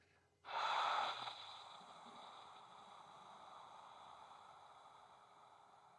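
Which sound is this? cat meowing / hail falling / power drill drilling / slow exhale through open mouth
slow exhale through open mouth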